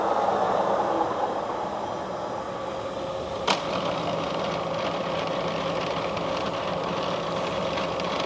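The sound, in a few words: Cincinnati No. 3 horizontal milling machine running at 1,300 RPM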